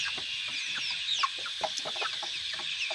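Several 45-day-old chickens cluck and chirp in short, scattered bursts over a steady hiss of background noise, fairly close and moderately loud.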